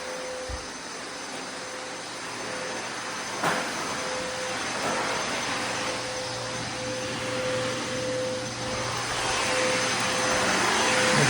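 Concrete floor grinder with dust extractor running on a job site, removing leftover carpet glue before dyeing; a steady, loud broadband roar with a constant whine, swelling slightly toward the end, with no talk.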